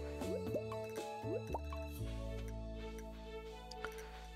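Watering crops in the Stardew Valley video game gives a few quick plinking drip tones in a short run, then a steady soft tonal backdrop with one more faint plop, quiet and without speech.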